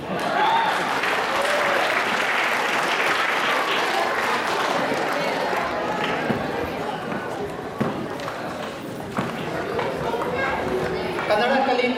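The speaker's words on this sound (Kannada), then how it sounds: "ನಮ್ಮನ್ನು ನೋಡಿ ಚಪ್ಪಾಳೆ ತಡೆದಕ್ಕೆ ಧನ್ಯವಾದಗಳು." Steady audience clapping fills a hall for about twelve seconds, dense and continuous, with crowd voices mixed into the applause.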